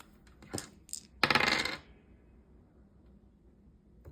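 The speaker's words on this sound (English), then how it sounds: "Let's get our dice out and let's do this thing." Dice rolled onto a tabletop during a cash-stuffing savings game: a few quick light clicks, then a bright rattling tumble of about half a second before settling into quiet.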